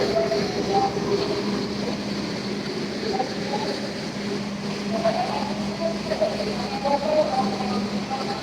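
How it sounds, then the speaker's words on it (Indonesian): Steady rumble and rattle of a moving Ambarawa Express economy-class train heard from inside a carriage, with a constant hum and occasional clanks and squeals. "ini udah masuk ya di dalam kereta ekonomi Ambarawa Express"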